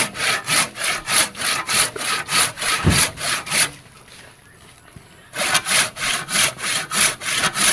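A hand saw rasps through a piece of reddish herbal wood in steady back-and-forth strokes, loud and close, pausing briefly for a couple of seconds before the rhythmic sawing resumes.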